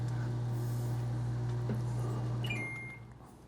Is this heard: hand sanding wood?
no